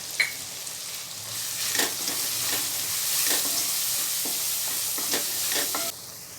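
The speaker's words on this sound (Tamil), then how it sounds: "இப்போ சிம்மில் வச்சு தான் வதக்குறேன்" Chili powder and coriander powder sizzle and crackle in a frying pan on a low flame with soft scraping stirs, a close, steady hiss with occasional sharper pops.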